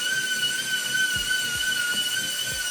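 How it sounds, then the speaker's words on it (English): A power drill runs in a home workshop during a Dodge Viper replica rebuild, giving a steady, high, unbroken whine at an even level for the whole stretch, with a few low knocks underneath. "Drill."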